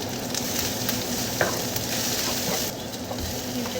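Garlic frying in a pan with onions and ginger, a dense steady sizzle heard close, with occasional faint clicks and stirring under it and no talking.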